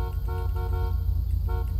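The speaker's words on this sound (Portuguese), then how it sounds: "Eu vou buzinar pra fingir que eu tô no trânsito." Repeated car horn honks from a player's zigzagging car in GTA V, a few short toots spaced across the moment over a steady engine and traffic rumble.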